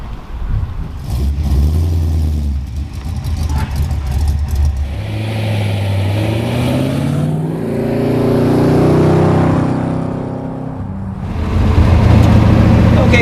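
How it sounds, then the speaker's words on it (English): A 1967 Ford Mustang Fastback on 335 tires driving along, its engine rumbling steadily from inside the car, swelling and revving as it accelerates, loud and close. "So we're out driving the 67 Fastback."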